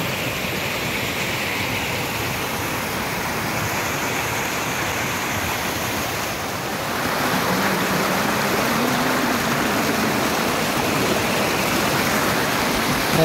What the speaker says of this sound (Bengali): খুবই সুন্দর লাগছে জলধারার শব্দ শুনতে